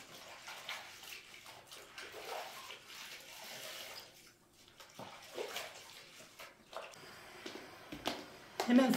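Water runs and splashes during cleaning, a steady rinsing wash with uneven surges that fades briefly midway, while someone talks at times.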